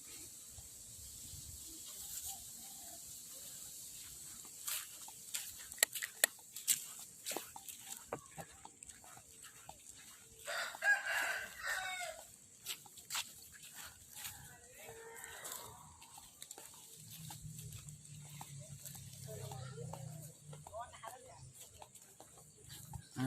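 Fighting cocks on a mixed farm in Sam Khok, Pathum Thani, Thailand, give intermittent crowing and clucking calls in bursts over a busy outdoor background, with voices talking at times.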